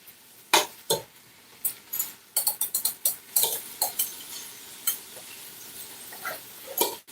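Food cooking down in a pan, with faint low sizzling under a string of sharp utensil clinks and scrapes against the pan, irregular and close, no voices.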